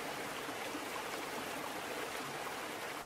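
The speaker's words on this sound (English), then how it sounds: "So I went ahead and switched it over to ocean sounds just for your benefit" Soft, steady rush of ocean-like water sound laid over a machining job on a go-kart drive shaft, a continuous wash with no pauses or voices.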